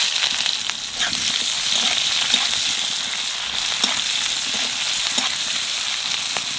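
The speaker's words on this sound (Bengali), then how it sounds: "পেঁয়াজটা একটু ভেজে নিয়েছি," Onions frying in a pan with cumin and bay leaf for a village-style chicken curry, a steady bright sizzle and crackle throughout with occasional louder pops, close and continuous with no talking.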